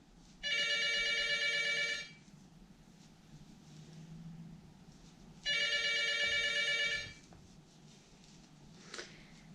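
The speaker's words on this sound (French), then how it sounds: "désolé pour le téléphone" Telephone bell rings in two long electronic bursts separated by a pause, fairly loud over a quiet room during a knitting session, with faint room noise between.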